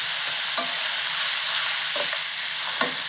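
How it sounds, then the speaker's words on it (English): Food sizzling steadily in a heating pan during mushroom tamale cooking, a continuous loud hiss with a few brief stirring scrapes, no talk. "I can hear from the sound of this pan that the heat is building up a little bit."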